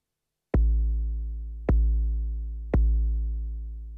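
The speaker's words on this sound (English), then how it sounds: "I call this one A1 kick long because it's exactly the same as the A1 kick" Three deep synthesized kick drum hits from a Korg Volca Drum on its long A1 kick patch, each with a booming low body that rings out slowly, spaced about a second apart, alone and clear.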